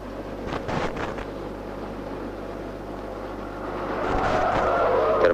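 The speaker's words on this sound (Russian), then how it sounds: "Тормозим." A car brakes hard on a city road, the tires scraping and skidding over steady traffic rumble, with the noise swelling louder toward the end.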